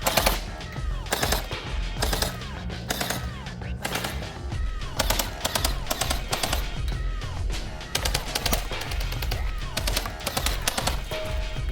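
A Havoc gel blaster fires in burst mode, loud and close. Rapid multi-shot bursts repeat in a steady rhythm, with short pauses between each volley.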